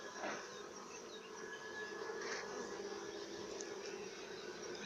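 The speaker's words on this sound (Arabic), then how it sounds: "النحل الآن يقوم بتوسيع الإطار وتخزين العسل" Honey bees hum around a hive frame where they are building comb and storing honey, a soft continuous buzzing drone with faint passing whines from individual bees, quiet and steady throughout.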